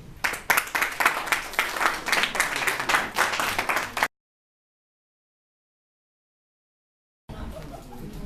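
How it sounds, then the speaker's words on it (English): An audience at a live talk bursts into dense, energetic clapping that lasts about four seconds and then cuts to silence. Quieter room noise returns at the end. "Another round of applause for Ini then."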